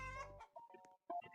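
A synthetic video game chicken clucks in short, bright bursts, several quick clucks in a row with brief gaps, clear and alone.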